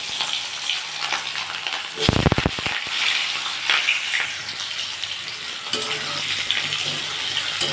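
Potatoes hit hot oil in a wok after a tempering of nigella seeds and dried red chillies, bursting into a loud crackle that settles into a steady sizzle with occasional stirring clatter.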